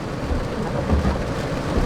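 Rain pours steadily on an outdoor outing among historic houses, with low rumbles of thunder rolling through the constant wash of noise.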